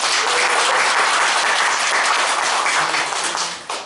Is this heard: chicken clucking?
no